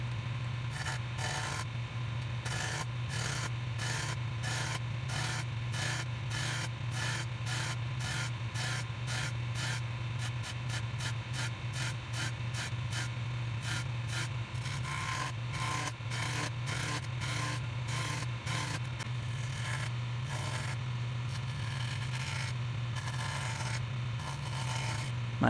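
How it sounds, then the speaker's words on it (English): Wood turns on a lathe while shaping a pedestal table column, a steady low motor hum under repeated scraping, rasping tool passes that pulse rhythmically and speed up midway, continuous and close with no talking. "I find it very soothing to turn something on the lathe."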